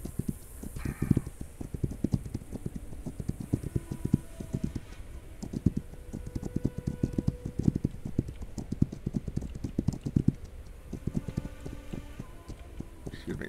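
Horse hooves clip-clop steadily through the video game This Land Is My Land, a dense, continuous patter of close, sharp hoofbeats from riding, with brief faint game sounds mixed in.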